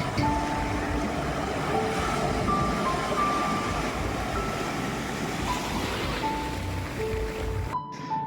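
Sea waves wash in at Dublagadi beach near Balasore, a steady broad roar of surf. Faint tonal beeps and distant vehicle sounds come through in the background.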